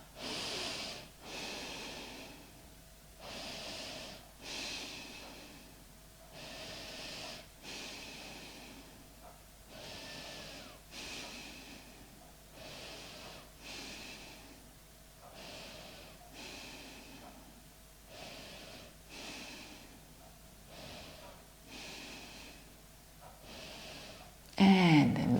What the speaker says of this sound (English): Really take deep breaths into your chest area.